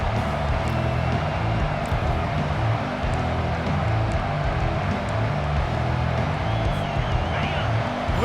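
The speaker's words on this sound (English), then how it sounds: "Listen to this crowd just shaking the girders of this place trying to help their defense" A college football stadium crowd at a Texas versus Arkansas game roars in a dense, sustained wall of cheering and noise on a third-and-long defensive play, steady and loud throughout with no pauses.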